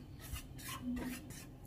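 Wheat flour dry-roasting in a pan, stirred continuously with a utensil: soft scraping and rasping strokes recurring in a steady rhythm, close and fairly quiet, no talking.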